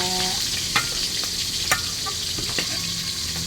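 Fish fries in hot oil with a loud, dense, continuous sizzle, broken by a few faint pops and clinks.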